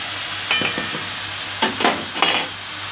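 Alexandrian-style liver fries in a pan at home, with a soft sizzle under a few sharp scrapes and clinks of a utensil stirring against the metal.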